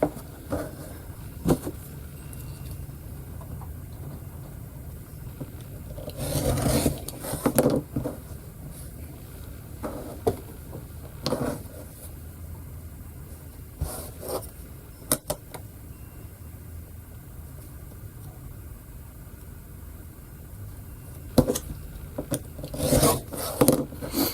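Quilt blocks being trimmed to size, with intermittent rasping, scraping cuts in short bursts separated by quiet pauses, close and fairly loud, with no speech.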